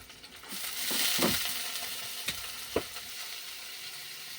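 Carrots tossed into hot oil with onions and green chillies for leftover rice, a sudden hissing sizzle that swells then settles, with a couple of sharp utensil knocks.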